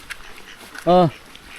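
A single short, nasal duck quack stands out against a quiet rural background during rain.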